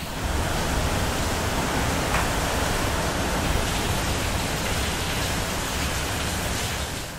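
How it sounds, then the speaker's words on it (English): Hurricane Ian wind and rain roar steadily on a lanai, a loud, unbroken broadband rush of gusting air and driving rain that holds constant throughout with no voices. "This is what it sounds like in the lanai."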